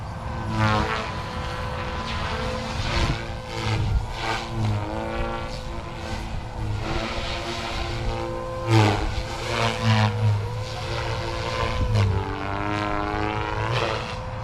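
An RC helicopter, either an OMP Hobby M4 or a SAB Goblin RAW 420, flies with a steady high rotor whine and engine drone that rises and falls with head speed, loud and continuous throughout.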